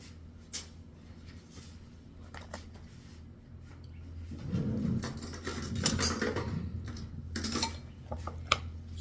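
An egg and glue being mixed together in a bowl give intermittent clinks, taps and wet scraping, fairly quiet, growing busier and denser partway through.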